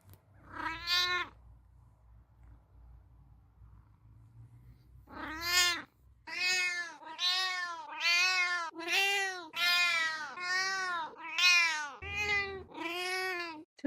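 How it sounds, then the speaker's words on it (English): A cat meows repeatedly and loudly, with one call, a pause, then a long run of rapid, insistent meows close by, over a low hum early on. "All the times you hear cat meows in my videos"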